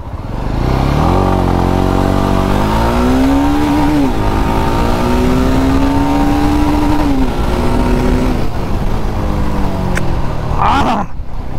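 A Jawa 42 2.1 motorcycle accelerating hard from a standstill toward 100, loud and close, with the engine climbing through several gears and rising pitch between each shift.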